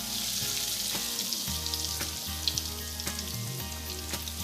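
Crispy bread rolls fry in hot oil with a constant, close sizzle and bubbling, broken now and then by soft clicks and splashes and no voices.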